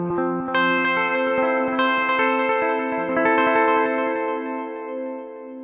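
Electric guitar runs through a BOSS DD-20 Giga Delay pedal with its modulation rate turned down, so held chords and plucked notes ring with a slow, wavering echo, steady and fairly loud with no talking.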